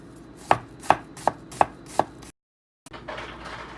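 Five sharp knife chops on a cutting board as an onion is diced, evenly spaced and close, then a brief silence followed by softer scraping and handling sounds.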